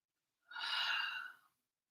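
A single slow, breathy exhalation or inhalation during a relaxed yoga hold, about one second long, soft and close with no talking.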